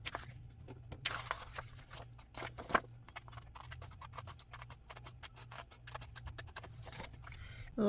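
Scissors trimming paper pieces for a planner, a scatter of quiet close snips and rustles through most of the stretch, soft and irregular over low background hum.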